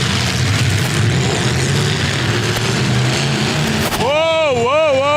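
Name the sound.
race car engine running while driver can't find a gear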